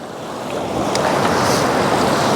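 Water rushes loudly over a pour-off among boulders where a long pool drains out, giving a steady, broad wash of sound close by with no talking.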